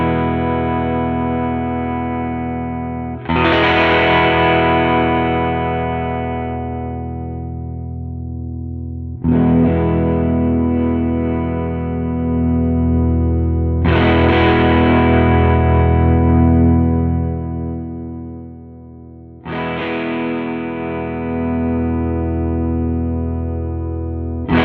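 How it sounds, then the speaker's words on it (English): An electric guitar plays with distortion and effects while its tone controls are swept, four sustained strummed chords each ringing out for several seconds, loud and alone with no talking. "Let's sweep the tone controls so you can hear that."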